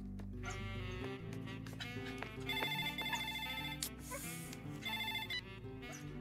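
Telephone ringing during a call in the Hindi comedy film Bheja Fry, with repeated electronic ringtone bursts and tonal chimes standing out loudly over a busy background score.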